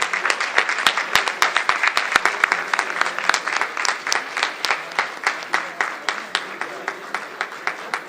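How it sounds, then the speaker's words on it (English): An audience at a Philippine business forum gives a sustained round of applause for President Marcos, many hands clapping together with sharp individual claps standing out, close and lively throughout. "改めまして、盛大な拍手でお送りください。"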